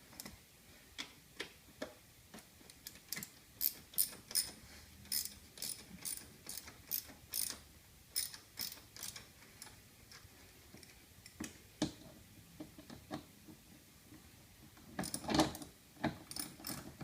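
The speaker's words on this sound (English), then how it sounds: "Get your 10mm socket. And remember, don't over tighten the screws." A 10mm socket wrench ratchets as it snugs the screws on a Toyota FJ fender flap, giving crisp close clicking runs in bursts with short pauses and a denser flurry near the end, no speech.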